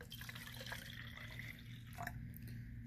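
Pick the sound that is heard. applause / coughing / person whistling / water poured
water poured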